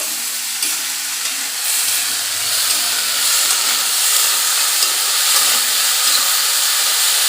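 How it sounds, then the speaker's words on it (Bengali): Jackfruit seed curry fries in a pan as it is stirred, a loud steady hiss and sizzle with soft scraping underneath, continuous and close with no voices. "আবারও নেড়ে নিব।"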